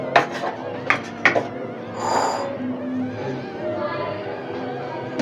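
Utensils clink and scrape against a dish as Nargisi aloo kofta is served out, a few sharp metallic taps early on followed by softer scraping and shuffling, close and moderately loud.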